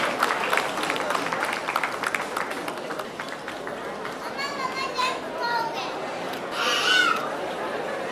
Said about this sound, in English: we can welcome him with a round of applause